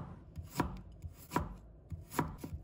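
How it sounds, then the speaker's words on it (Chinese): A knife slices peeled fresh ginger into thin pieces on a cutting board, giving crisp, close thunks at an even pace, three strong cuts with lighter taps between them and no voices. "再准备1块去皮的生姜，把它切成薄片"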